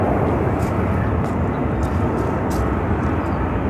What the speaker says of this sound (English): It's Air Canada Rouge. Airbus A319 headed to Montreal.